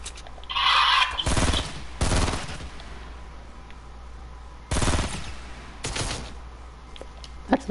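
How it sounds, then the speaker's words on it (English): Gunfire in the Fortnite video game crackles in several sharp, loud bursts of rapid shots separated by short pauses, with quieter ambient game sounds between them. "I hear people shooting bullets."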